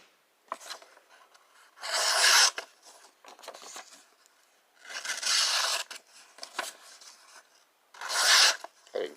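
A 5.11 Tactical Heron knife slicing through sheets of copier paper, with three loud, raspy cutting strokes separated by quieter rustling and handling, close and without talk.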